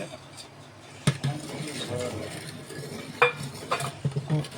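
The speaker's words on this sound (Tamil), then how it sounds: "கலந்து நல்லா கொதிக்க வைக்கணும் அப்படி கிண்டிக்கிட்டே இருக்கணும்" A spoon scrapes and clinks against a metal pot as boiling milk is stirred, with irregular knocks over a low bubbling background.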